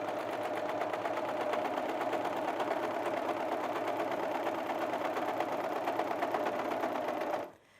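A 4-thread overlocker with two needles and two loopers sews and trims a cushion seam, giving a steady, loud, fast mechanical whirr that runs unbroken for about seven seconds before stopping abruptly.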